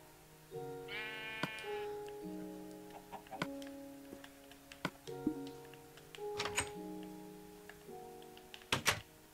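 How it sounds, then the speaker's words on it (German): A red sheep bleats in Minecraft, several drawn-out, wavering calls spaced across the span, clear and fairly close, with sharp clicks and taps scattered between them. "Wir haben ein rotes Schaf."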